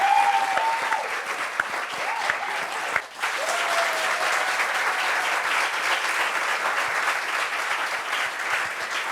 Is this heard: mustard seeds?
no